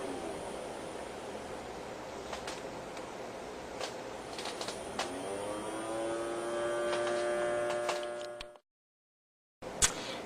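A small electric motor in a homemade electronics setup spins up, its whine rising in pitch over faint ticking and background hiss before cutting off abruptly into silence, then a brief burst returns.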